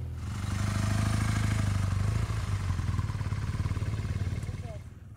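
An off-road motorcycle engine revs hard under throttle during an off-road riding clinic in Colorado, a steady, loud, close rumble that holds for several seconds and then eases off at the end.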